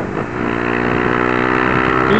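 A Honda CB300 motorcycle engine hums steadily nearby, a loud, even drone with a slight rise in pitch toward the end.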